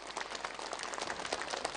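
Audience applause at a Korean-Chinese literary award gala, welcoming the chairman of a Jilin provincial economic and technology association; steady dense clapping throughout, fairly faint and distant, with no voices over it.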